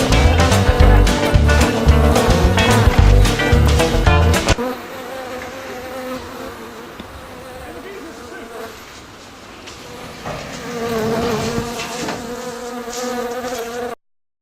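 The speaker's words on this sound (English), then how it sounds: "Actually, the bees don't hurt that bad." Buzzing insects drone close by, briefly under a loud rhythmic burst at the start, then a steady hum that swells and fades.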